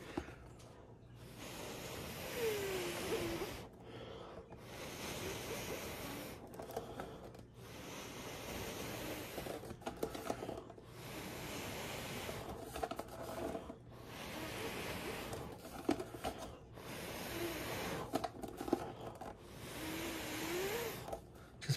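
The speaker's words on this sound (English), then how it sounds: "Now we're gonna blow it out just a little more." Repeated bursts of blown air strike wet fluid art paint to spread spinner bloom petals, a broad breathy hiss that comes in about eight roughly regular puffs with brief gaps between them, close and steady.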